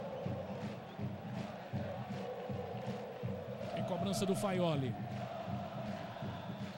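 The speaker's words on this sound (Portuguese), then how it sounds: "Torcida animada, um bom começo do time baiano." A lively crowd at a Brazilian Série B football match between Vitória and Fortaleza in 2007, a steady distant roar with chants and a whistle, heard under a commentator's continuous fast play-by-play speech.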